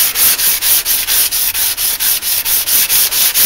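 A 2x72 belt grinder running a Scotch-Brite belt against a blade, giving a continuous abrasive rubbing hiss with a fast regular pulse, close and loud, with no talking.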